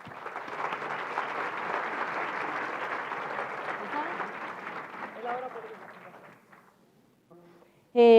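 Audience applause at a research presentation meeting on Centennials, a dense sustained clapping that fades out over several seconds before a voice begins.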